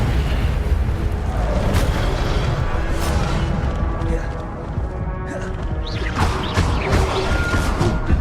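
An Incendio fire spell is cast in a Hogwarts video game, a loud crashing, explosive burst with crackling, sweeping whooshes, and a voice speaks over it.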